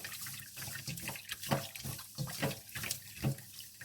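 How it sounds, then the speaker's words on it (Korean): Raw oysters being washed by hand in salted water in a kitchen sink, with repeated gentle sloshing and splashing strokes in an uneven rhythm, close and fairly clear. "자, 소금을 넣고 물을 좀 넣어서 살살 이렇게"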